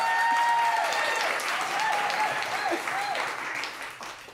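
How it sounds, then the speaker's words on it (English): Audience applause at an evening speakeasy-style speaking event, a broad, sustained spread of clapping mixed with whoops and crowd voices, fairly loud and then tapering off toward the end. "can you just clap?"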